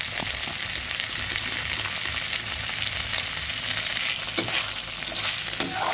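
Mutton kuti bhaji fries in a pan with its liquid cooked off and the oil released, a steady close sizzle that runs throughout, with the scrape and clatter of stirring on top.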